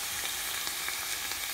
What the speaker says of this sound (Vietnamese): Mọi người nghe tiếng xèo xèo đấy không?